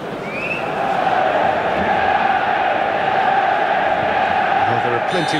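A capacity stadium crowd at Old Trafford in the football video game eFootball 2022 roars as a steady, dense wall of sound that swells slightly after the first second and holds loud and continuous throughout.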